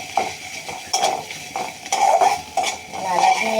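A utensil stirs food in a metal pan, scraping and clinking in repeated close strokes with a faint sizzle underneath.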